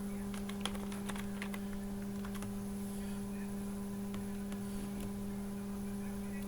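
Light keystrokes on a computer keyboard enter text, sounding as faint, scattered clicks over a steady mains hum and background noise.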